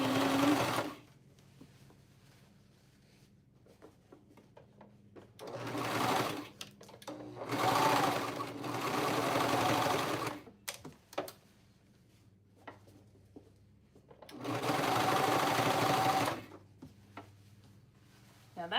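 Sewing machine top stitching a seam on an Emmy bra, three separate runs of fast steady whirring with quiet pauses and small clicks between them, close up.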